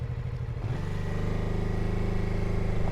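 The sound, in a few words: BMW F 450 GS 420cc engine pulling away in third gear without clutch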